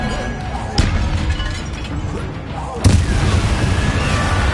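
Bombarda and Confringo spell explosions in the Hogwarts Legacy game, two booming blasts about two seconds apart over a steady background of game noise and music, with a voice talking throughout.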